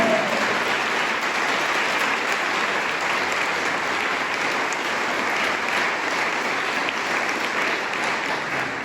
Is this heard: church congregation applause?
yes